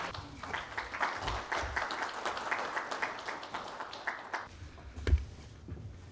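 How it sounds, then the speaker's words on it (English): An audience at a legal conference in India applauds an honoured guest, with steady, dense clapping throughout and a brief louder clap near the end. "Please have a huge round of applause for Dr. Lalit Bhasin, everyone."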